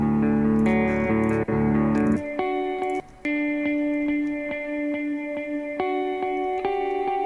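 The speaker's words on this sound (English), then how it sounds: "Heavy delay on that." Sustained musical tones smeared by a heavy delay effect, notes repeating and stacking into echoing layers that ring on after each change, with brief dropouts between phrases.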